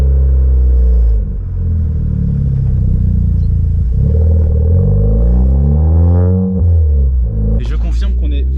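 Suzuki Swift Sport engine idling and revving just after starting, a loud, deep, muffled drone with rising and falling pitch as the revs climb, heard from inside the car.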